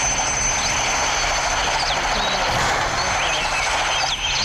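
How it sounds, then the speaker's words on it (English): A helicopter in the Roblox game Mad City gives a steady, loud rotor and engine drone that holds evenly throughout, with no talk. "Okay, we get into the helicopter."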